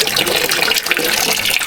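Water runs steadily from a tap in a bathroom under renovation, a continuous hissing splash that is moderately loud and close with no pauses.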